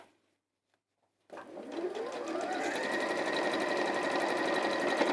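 A sewing machine runs steadily to top stitch a bag, starting after a moment of silence and holding a continuous, close, even whir to the end.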